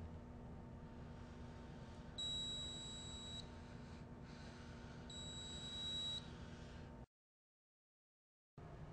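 Faint electronic error beeps from a Greenlee SF-530 stud finder sound in two sustained bursts over a low background hum, then the hum briefly drops out.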